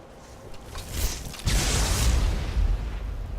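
A thunderbolt spell explodes in Skyrim, a sharp crackling burst that swells into a loud, broad roar and rumble lasting a couple of seconds, with no voices over it.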